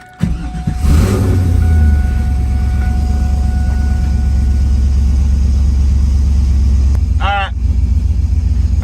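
Car engine fitted with a nitrous Maximizer kit, running loud and steady through a nitrous test, a sharp burst near the start settling into a constant heavy drone, with a brief squealing whine late on.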